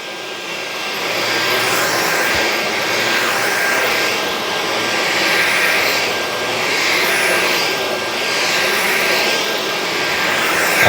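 Bissell FurGuard 4039 and Dyson V9 vacuum cleaners running on carpet, producing a steady loud whooshing motor roar with slow swells in level, close and continuous.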